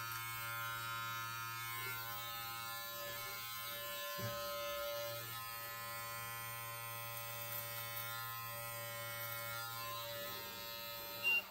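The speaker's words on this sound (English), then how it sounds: "then you kind of angle your clipper out a little bit" Electric beard clipper fitted with a 6 guard buzzes steadily and close while trimming and tapering a beard, holding an even hum throughout with a brief dip near the middle and a small bump at the end.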